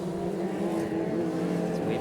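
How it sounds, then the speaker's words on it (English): A TQ midget race car powered by a GSXR 750cc motorcycle engine during a race heat, giving a steady, moderately loud engine drone for about two seconds against a busy, noisy background. "these TQs with the GSXR 750cc motorcycle motor, so a ton of power"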